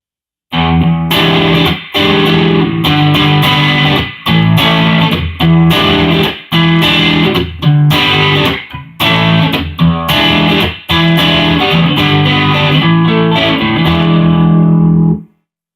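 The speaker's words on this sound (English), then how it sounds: "Let's go with the distortion." Distorted electric guitar plays short, chunky phrases separated by brief pauses, loud and gritty, ending on a sustained chord that cuts off.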